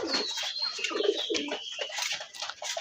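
Pigeons coo softly in a loft, several birds overlapping in continuous low burbling calls, close and steady with no talk.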